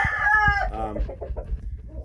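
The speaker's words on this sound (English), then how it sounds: "Just a great exotic chicken to have." A Phoenix chicken on a farm gives a loud, close crow-like call that trails off into a series of short clucks, heard alone without talking.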